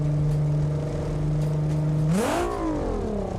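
An SR20-engined car in the BeamNG driving game holds a steady droning engine note, then revs sharply upward with a rising whine and settles back, loud and continuous with no talk.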